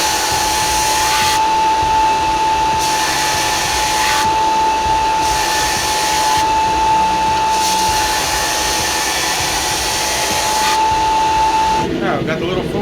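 Rough grinding of a soft steel dagger blank before heat treatment, a loud, steady, close abrasive roar with a constant whining tone that runs nearly throughout and cuts off at the end.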